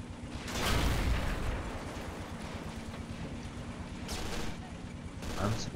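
Gunfire aimed at a tank in the war strategy game Men of War: Assault Squad 2, dense bursts of shots and booms, loud at the start and returning in later volleys over continuous battle noise.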